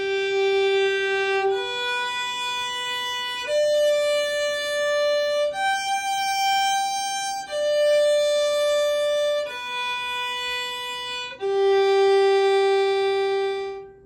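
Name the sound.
violin tonalization, notes held for two beats each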